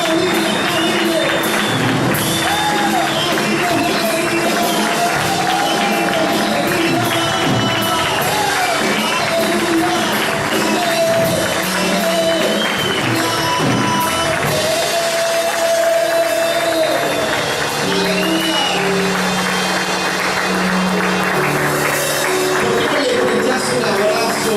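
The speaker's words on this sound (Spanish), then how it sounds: "¡Dale aplauso a la iglesia mañana!" A church congregation applauds during a Spanish-language sermon, a dense, continuous wash of clapping and crowd noise with a preacher's amplified voice talking loudly over it throughout.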